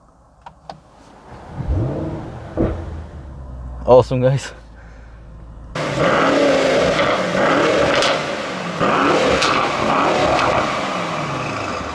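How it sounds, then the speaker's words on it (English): A 2018 Mercedes-AMG E63 S 4MATIC+ engine cranks and fires, settling into a loud, steady rumbling idle with rises in revs, heard from inside the car after some brief speech. "So I put my foot on the brake, hit the button to start, and let's listen."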